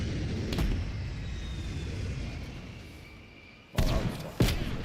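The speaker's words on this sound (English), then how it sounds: "Strafe run incoming on your location." In a video game, a strafe run ends in two sharp, heavy explosions in quick succession near the end. They follow a long stretch of rumbling battlefield noise with a faint aircraft whine.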